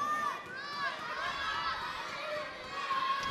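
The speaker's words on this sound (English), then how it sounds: "You can hear the shouts of come on, Noor, come on, Hanya." A split crowd at the PSA World Tour Finals 2022-23 squash match between El Hammamy and Gohar shouts and chants encouragement, with overlapping voices rising and falling in waves in a large arena.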